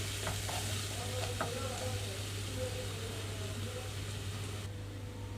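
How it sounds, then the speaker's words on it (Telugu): Onions frying in a pan over a medium flame give a steady, dense sizzle that runs loud and unbroken throughout, with a low hum underneath and a few faint stirring scrapes. "ఉల్లిపాయలు కొంచెం వేగాలి మీడియం ఫ్లేమ్లో ఉంచి రెండు మూడు నిమిషాల పాటు వేయించుకుంటున్నాను"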